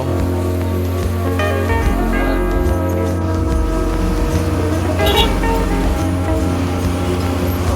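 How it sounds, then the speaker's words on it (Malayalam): Steady low engine rumble of a KSRTC bus moving through town traffic near Payyanur, Kerala, with a brief horn toot and a bell-like chime partway through. "നമ്മുടെ ബസ് അങ്ങനെ മുന്നോട്ട് പോയിക്കൊണ്ടേ ഇരിക്കുകയാണ്"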